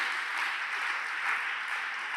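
Steady applause from a church congregation, a dense even patter of many hands clapping at moderate distance, with no voices over it.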